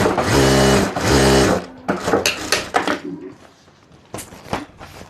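A sewing machine stitches three handbag lining pieces together, running in two loud, steady bursts of a second or so each, then breaking into shorter, uneven stitching runs and handling noises.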